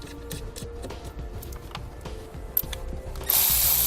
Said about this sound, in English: So we'll grab a 13mm socket. We're going to remove the nut that's on the positive post.